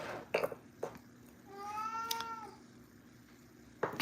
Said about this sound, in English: here goes the kitty again